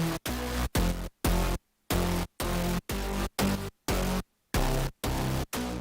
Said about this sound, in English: Here's another saw wave that's higher.